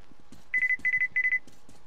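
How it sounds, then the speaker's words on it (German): A device in Metro Exodus gives three quick bursts of three shrill electronic beeps each, loud and evenly spaced, over a low murmur of ambient game sound. "Warum piepst mein Ding so nah schon wieder?"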